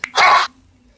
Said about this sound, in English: Let's hear the dog.